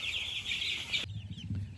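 Hens clucking with small chicks peeping, close by, a short burst of farmyard chatter with no talking.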